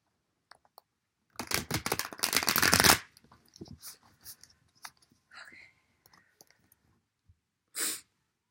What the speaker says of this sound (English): I need to shuffle one more time.